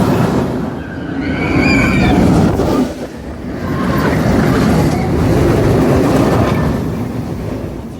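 A roller coaster train roars along its rails at very close range in a theme park, a loud rumbling rush that swells, dips briefly and builds again.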